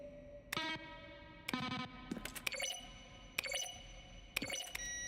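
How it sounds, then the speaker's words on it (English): Button-press sounds from The Stanley Parable: Ultra Deluxe, each blending keyboard strokes with synthesized tones, ring out as about five separate chiming electronic bursts with short decaying tails, clear and alone. "each sound is a mix of keyboard strokes and synthesized tones"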